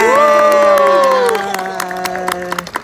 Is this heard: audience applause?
yes